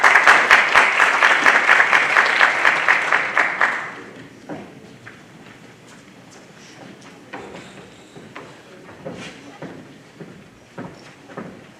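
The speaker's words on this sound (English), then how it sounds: "Please join me in another roaring round of applause for our 2022 graduates" Applause for graduates at a Duke Engineering ECE master's hooding ceremony, dense sustained clapping from a large audience that stops abruptly, then scattered faint claps and room noise.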